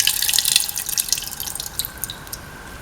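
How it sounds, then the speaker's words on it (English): Tamarind water is poured into a pan while cooking a split chickpea and semolina dish, giving a close splashing trickle that starts strong and thins into scattered drips. "Pour in around 200 ml of water, into which 100 grams of tamarind has been squeezed."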